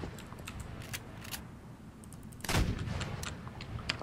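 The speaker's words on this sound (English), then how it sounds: "Trying to shoot this guy," Gunfire in the video game Garry's Mod, Pirate Ship Wars mode, with scattered sharp shots and one louder burst midway, all over steady game background noise.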